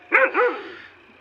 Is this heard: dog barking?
yes